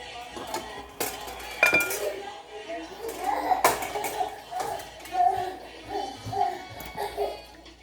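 A utensil mixing spaghetti with egg in a dish gives scattered clinks and scraping taps against the dish, a few sharper knocks among them, under ongoing talk.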